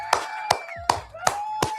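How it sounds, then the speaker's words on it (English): Five sharp, evenly spaced claps ring out over about two seconds, crisp and close, like a single person or small group clapping slowly rather than a full crowd. "And I think that gets a round of applause."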